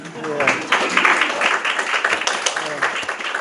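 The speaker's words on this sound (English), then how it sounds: "So one more shout out, round of applause to yourselves." Audience applause at an academic talk on mathematics education, a dense continuous round of clapping from a roomful of people, fairly loud and near, with voices mixed through the clapping.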